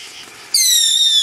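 A backyard firework lets out a sudden high-pitched whistling shriek that starts abruptly after a soft crackle and holds steadily, loud and close, with no talk.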